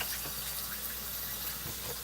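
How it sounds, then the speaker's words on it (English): Hot tap water running steadily into a cooking pot in a home kitchen, a continuous soft hiss and splash at moderate distance with no talking. "We're going to fill it up with water."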